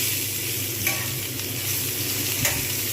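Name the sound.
frying pointed gourd in a pan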